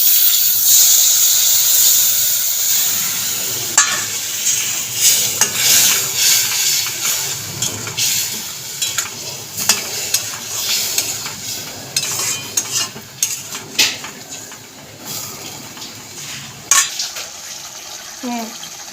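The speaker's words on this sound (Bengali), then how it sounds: "এবার তেলের মধ্যে দিয়ে দেবো মশলা মাখা গাটি কচুগুলো।" Spice-coated taro (gathi kochu) dropped into hot oil, hissing and sizzling loudly as it fries, with stirring scrapes and clinks of a utensil against the pan throughout.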